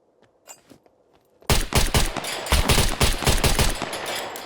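Video-game gunfire in SCUM: a few faint shots at first, then a sudden loud burst of rapid automatic fire that keeps rattling close up for several seconds.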